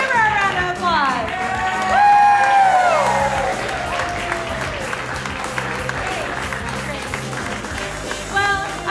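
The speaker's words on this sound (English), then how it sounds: "Let's give her a round of applause." A game show studio audience gives the host a round of applause, steady clapping mixed with whoops, cheers and voices rising over it throughout.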